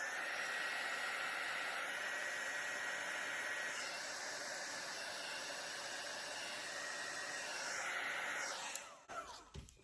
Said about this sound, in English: I'll hit it with the heat gun again,